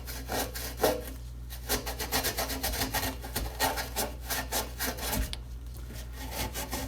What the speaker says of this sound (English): I got me some Scotch-Brite. I'm gonna try and clean this up.